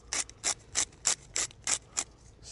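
Salt mill grinding salt over shrimp and mango skewers, seven quick evenly spaced gritty crunching twists, close and fairly quiet with no other sound.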